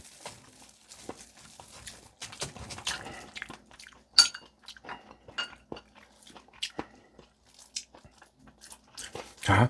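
Crisp bites into a fried chicken wing from a 60계 order, with sharp crunching and chewing bursts scattered across close, fairly quiet eating sounds and no talking.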